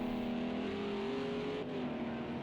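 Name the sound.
GT3 race cars at the Texas Motor Speedway in the video game Project CARS 2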